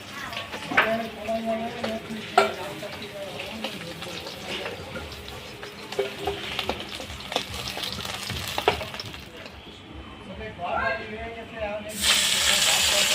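Bhetki fish fries in hot oil with a continuous sizzle and hiss, spatters and stirring clatter throughout, and the sizzling swells louder at the very end.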